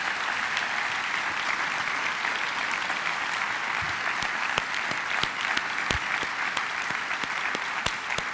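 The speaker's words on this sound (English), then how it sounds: "Would you give them too a round of applause?" Audience applause at a summer university graduation ceremony: a sustained, full roar of many clapping hands, with scattered louder individual claps cutting through toward the end.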